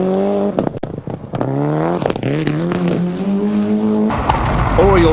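A Didier Auriol rally car at the 1994 Rally New Zealand races hard and fast, the engine note rising and falling through repeated gear shifts, loud and close, with a brief skid-like burst near the end.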